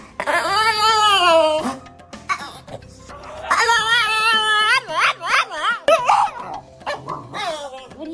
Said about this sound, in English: These dogs are such crybabies.